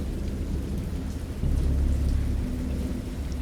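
Steady heavy rain pours under a deep rumble of thunder in a storm, the rolling boom swelling louder midway and continuing over the constant downpour.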